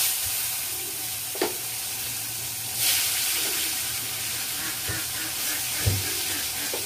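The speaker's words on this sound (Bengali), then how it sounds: "করলাটা ভাজি বসিয়ে দিয়েছি" Bitter gourd frying in oil with turmeric, a steady close sizzle and hiss with occasional soft stirring scrapes and taps.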